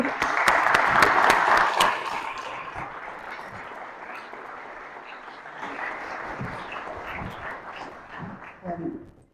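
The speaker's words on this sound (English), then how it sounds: "Let's give her a round of applause." An audience at a lecture event gives a round of applause that starts strong for about two seconds, then thins into scattered clapping and room noise, with a brief swell before fading out.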